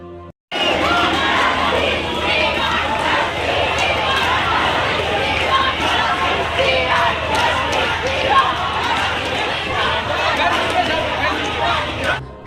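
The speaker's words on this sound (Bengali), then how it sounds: "শহরের বুকে এখন গর্জে উঠছে একটাই স্লোগান, উই ওয়ান্ট জাস্টিস" A large protest crowd in a city street chanting the slogan "We want justice", a loud massed roar of many voices shouting together, continuous and close after a brief quiet start.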